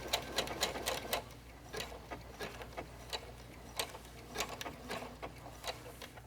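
A sewing machine works a blanket stitch in copper thread on a fabric wall-hanging. It gives quiet, rapid, uneven ticking and clacking in short runs throughout.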